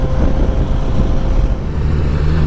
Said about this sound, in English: number 3 on the list is the sound this engine makes